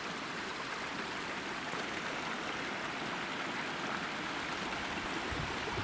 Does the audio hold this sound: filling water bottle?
yes